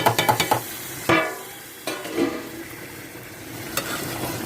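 Raw prawns tipped into a pan of onions for a spicy Guntur gongura curry, giving a sudden sizzle followed by stirring scrapes and a few utensil knocks against the pan.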